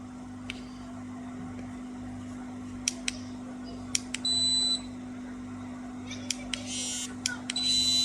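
A Chinese Geiger counter dosimeter gives several short, sharp electronic beeps at irregular intervals, with a few longer chirping bursts, over a steady low electrical hum.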